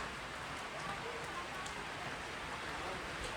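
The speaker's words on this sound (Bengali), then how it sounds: "আর শিলারিগাঁওতে এরম মুষলধারে বৃষ্টি হচ্ছে।" Heavy night-time downpour in Sillery Gaon, Sikkim: a steady, faint hiss of rain with scattered drips, continuous and even, heard from a distance with no voices.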